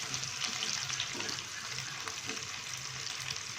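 Chopped onions sizzle and fry steadily in hot oil, browning for a restaurant-style mikh pulao, with occasional stirring scrapes in the pan and no talk.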